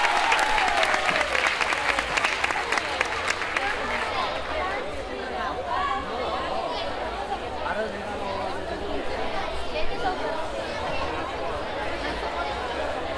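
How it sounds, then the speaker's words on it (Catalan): An audience at an hereu and pubilla proclamation ceremony in Anglès applauds a newly sashed young man; dense clapping swells at first, then settles into sustained applause mixed with crowd chatter. "Un fort aplaudiment per l'Arnau i moltes felicitats, Arnau."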